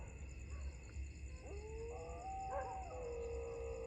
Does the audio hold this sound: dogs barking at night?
yes